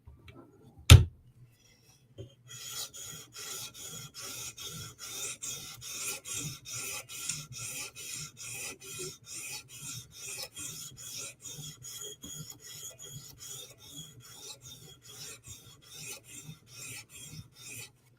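A Chris Reeve Inkosi tanto knife blade is sharpened on a 400 grit stone, a single sharp knock followed by a long run of steady, rhythmic rasping strokes, close and even.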